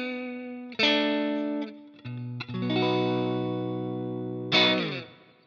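Electric guitar with a Scheurebe Jazzmaster pickup set, reverse-wound and reverse-polarity, played through effects units: bright, sparkly sustained chords and notes ring with distortion and chorus, struck afresh several times and left to decay, with no talk.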